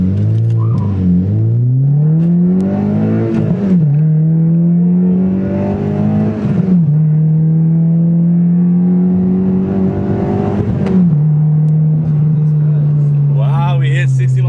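A 2015 Honda Civic Si with a Hondata tune accelerates hard, its loud engine climbing through the revs in repeated pulls with brief dips at each gear change, and people talking over it.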